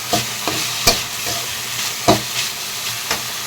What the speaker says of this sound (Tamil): இதை மட்டும் இந்த மாதிரி வதக்கிக்கலாம்.